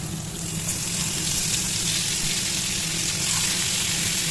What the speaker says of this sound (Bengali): আমি মাছগুলো ভাজার যে তেলটি আছে সেটির মধ্যেই আলুগুলো আস্তে আস্তে দিয়ে দিচ্ছি